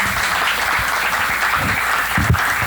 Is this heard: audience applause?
yes